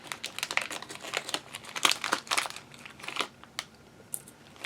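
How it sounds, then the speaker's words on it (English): Plastic packaging crinkles and rustles in close, irregular bursts while jewelry supplies are handled for handmade butterfly pendant necklaces, with sharp crackly peaks scattered throughout and no talking. "I'm sorry about the crinkling, you guys."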